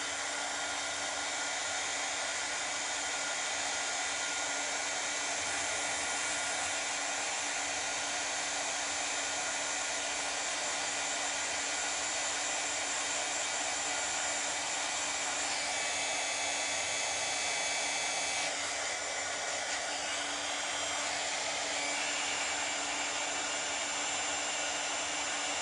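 A hair dryer blows steadily and loudly for the whole stretch, warming wet paint on a snowy Christmas decoration, with a constant airy whine that shifts slightly in pitch near the end.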